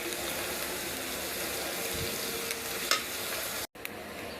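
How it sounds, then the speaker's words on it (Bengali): Onions, green chillies and shrimp fry in a pan with a steady, close sizzle and hiss, with a few faint stirring scrapes over the top and a brief dropout near the end. "এখানে আমি পেঁয়াজ, কাঁচামরিচ ও চিংড়ি মাছগুলো সুন্দরভাবে ভেজে নিচ্ছি।"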